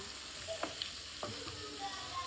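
Masala for mandi fries in a pan with a constant bright sizzle, broken by occasional soft scrapes and taps of a stirring spoon, close and even throughout.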